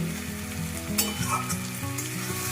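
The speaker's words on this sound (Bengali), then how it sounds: "এবার এইটাকে দিয়ে আমি আরো কিছুক্ষণ ভেজে নেব।" Fish roe with chopped tomato fries in a pan, giving a dense, continuous sizzle close up over a low steady hum, with a couple of faint stirring touches and no talking.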